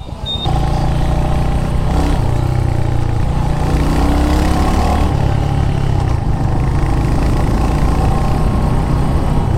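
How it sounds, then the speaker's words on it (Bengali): A red Royal Enfield Hunter motorcycle's single-cylinder engine runs loud and close, a fairly quick, even thumping beat with a fast pulse and steady level throughout, no talk. "এটার সাউন্ডটা একটু ডিফারেন্ট, মানে ইসের মতো অত ঢাক ঢাক ঢাক ঢাক করে না, এটা একটু ফাস্ট ফরওয়ার্ড হইতেছে"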